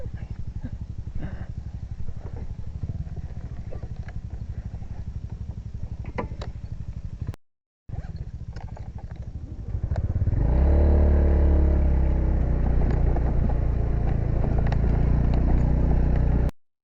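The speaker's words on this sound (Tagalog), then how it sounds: "Para kabayo yung motor." A motorcycle rides a rough, rain-damaged road to a waterfall, its engine droning steadily with clattering jolts. After a brief cut it returns louder and more forceful, revving under acceleration.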